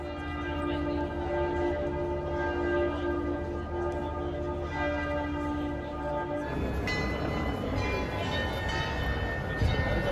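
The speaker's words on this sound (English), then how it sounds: "all this accompanied by the bells ringing" Munich church bells ring with steady sustained tones over a dense, busy background with helicopters overhead, continuing throughout; the ringing grows more clangorous and layered toward the end.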